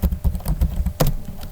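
Quick clicking keystrokes on a computer keyboard, a close, busy patter of key presses with one sharper tap near the end.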